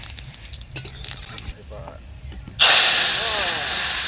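Dry red chillies, two bay leaves, five-spice and mustard seeds drop into hot oil and burst into a sudden loud hissing sizzle that continues strongly, following a quieter stretch of a voice and kitchen clatter.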